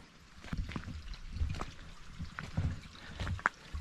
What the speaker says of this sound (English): you can hear sloshing water.